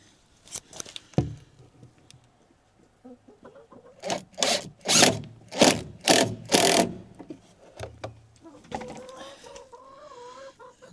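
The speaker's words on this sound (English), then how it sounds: "I'll start the screw ahead." A screw is driven into wood while building a chicken nest box: rapid ratcheting, creaking bursts come in a cluster mid-clip, framed by scattered knocks and handling noise, with chickens faintly clucking nearby.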